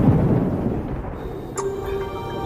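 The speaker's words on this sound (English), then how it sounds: "thunder begins to reverberate around the airport." Low thunder rumbles and reverberates around an airport as darkness falls during an electric storm, a steady deep roll that fills the whole short stretch at moderate loudness.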